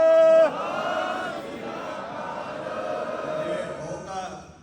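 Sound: Sikh congregation shouting jaikara response to Bole So Nihal

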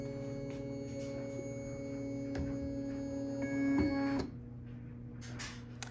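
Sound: Bernina embroidery machine arm moving into position

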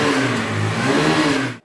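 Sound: Hero Xtreme 160R 4V motorcycle engine revving

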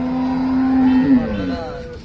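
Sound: cow mooing at cattle market

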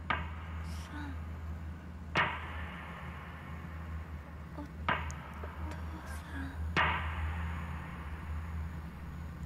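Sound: hammer striking wood in video game Project Zero 4

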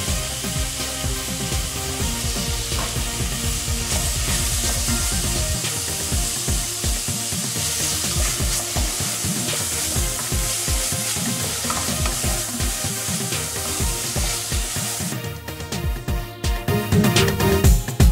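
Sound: minced meat and onions stirred while frying in a pot

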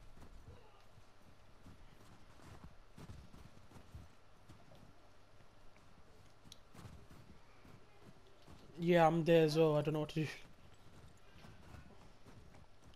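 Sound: horse hooves in video game The Last of Us Part II

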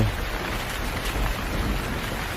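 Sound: rain

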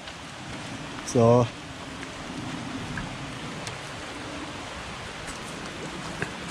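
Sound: rain falling in woodland under tree canopy

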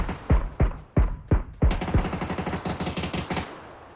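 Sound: gunfire in a video game

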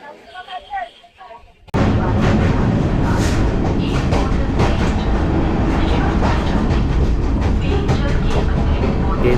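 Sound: passenger train moving on rails

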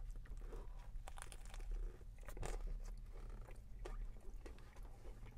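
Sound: biting and chewing an A&W smoked gouda burger

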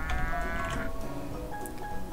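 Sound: cows mooing in the video game Rock of Ages 2

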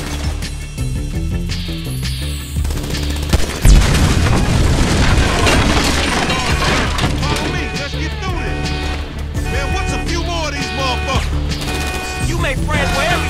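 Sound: gunfire in video game Grand Theft Auto V

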